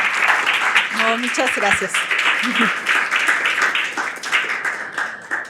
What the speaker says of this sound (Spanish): les pido por favor un aplauso, tanto para Elisa como para Marta